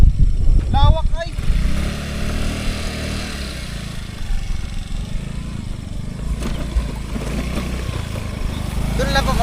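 A motorcycle engine runs steadily throughout at close range, a low continuous drone by a riverside, with people talking over it near the start.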